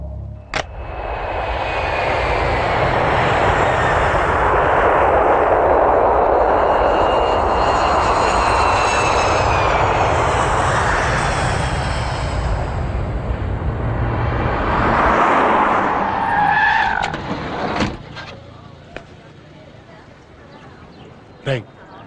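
An airplane passes overhead, its engine roar swelling and holding loud for around fifteen seconds before fading out, followed by a few sharp knocks.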